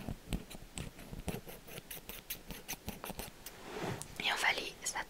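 Metal scissors snip repeatedly close to the microphone in a quiet ASMR setting, a run of crisp, fast cuts with soft whispering laid over them.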